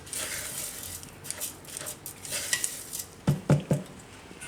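Ground poha and jaggery for Gujarati pava laddu being mixed: steady close scraping and grinding stir, then three sharp knocks in quick succession near the end.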